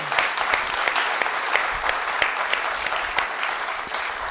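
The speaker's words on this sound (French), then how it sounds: "Can you clap for yourself?" A church congregation claps together in steady, dense applause that runs throughout at an even, fairly loud level, with sharper individual claps standing out.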